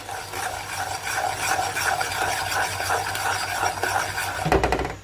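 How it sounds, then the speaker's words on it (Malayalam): Milk and flattened rice (poha) stirred in a pot of boiling milk for kulfi, a continuous close scraping and swishing of a spoon against the pot, with a louder clunk near the end. "നല്ലവണ്ണം ഒന്ന് ഇളക്കി കൊടുക്കാം"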